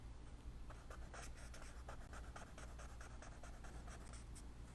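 A blending stump rubbing charcoal across paper in an art class, a faint, steady scratchy rasp of short strokes repeating under a low background hum.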